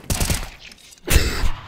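A burst of video game gunfire in Counter-Strike: Global Offensive: a rapid volley of loud shots, a short lull, then a second heavy cluster of shots.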